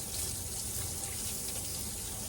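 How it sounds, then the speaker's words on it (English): Hands washed and rinsed under a running tap during a clinical handwashing demonstration, a steady close splash of water with no talking. "So we're going to go ahead and wash our hands for 15 seconds. So rinse them"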